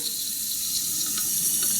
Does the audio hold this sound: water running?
yes